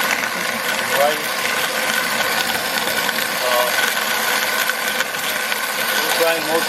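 A Messerschmidt grain mill driven by a KitchenAid stand mixer grinds grain such as wheat, rye or rice, producing a loud, steady mechanical whirring drone that runs unbroken and close by.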